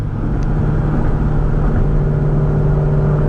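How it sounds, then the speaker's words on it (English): Straight-piped BMW E9X M3 heard from inside the car while driving, a loud, steady low engine and exhaust drone that fills the cabin with no talking. "See how my car sounds. I know it's gonna be real loud."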